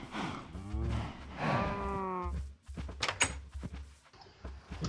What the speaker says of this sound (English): Bunch of cows